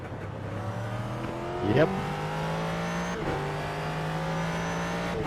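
A Ford GT3 race car circling laps at Sonoma, its engine holding a steady drone with a brief rev spike partway through, while a voice speaks briefly over it.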